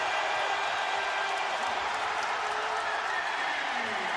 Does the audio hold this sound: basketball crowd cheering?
yes